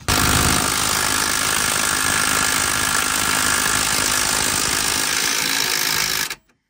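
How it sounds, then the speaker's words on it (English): A Milwaukee M12 Fuel 3/8-inch cordless ratchet runs close up in one continuous loud buzzing, rattling burst of about six seconds, then stops abruptly. "This little 3/8 fuel ratchet is unbelievable."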